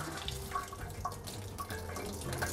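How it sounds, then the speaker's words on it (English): Cold tap water runs steadily over blanched spinach in a kitchen sink, a continuous close splashing rinse with no voices. "I'm giving the spinach a quick cold water rinse so that the spinach cools down and stops cooking"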